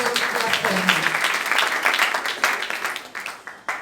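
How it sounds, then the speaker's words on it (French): A church congregation breaks into applause as a voice trails off at the start; the clapping continues in a dense wash, then gradually thins and fades. "Est-ce qu'on peut applaudir?"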